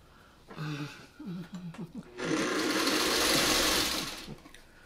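A person speaks briefly before a sewing machine runs quilt pieces through in one loud, continuous burst of whirring stitching that fades out near the end.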